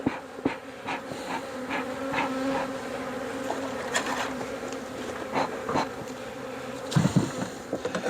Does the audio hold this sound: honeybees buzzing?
yes